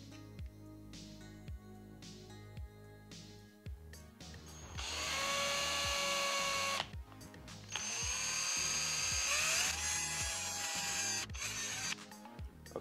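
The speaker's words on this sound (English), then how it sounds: "we'll be drilling a 3mm hole in here" A power drill bores a 3mm hole into a prop Biker Scout tank, its motor whining in two long, loud bursts with brief pauses, preceded by scattered handling clicks and taps.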